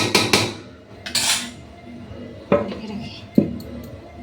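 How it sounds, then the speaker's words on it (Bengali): A spoon stirs chicken biryani in a pot to check whether it is sticking to the bottom, producing a few sharp metallic clanks and scrapes separated by quieter pauses. "একটু নাড়াই দেখি তলায় লাগছে নাকি"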